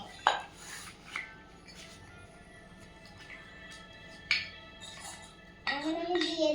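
A toy cooking pot and pan are handled, giving a few sharp metallic clinks and knocks spaced over several seconds, then a scraping, clattering rustle at the end, all fairly quiet against a faint background hum.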